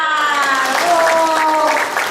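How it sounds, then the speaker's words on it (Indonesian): Audience applause at a gathering of neighbourhood heads in Cilacap, Indonesia fills the scene, mixed with a sustained tonal sound like singing or chanting voices on top. "tepuk tangan"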